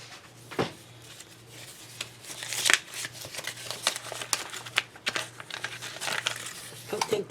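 Sheets of contact paper and transfer paper handled and crinkled up close, irregular bursts of rustling and crackling with a few sharper crinkles, a faint steady hum beneath.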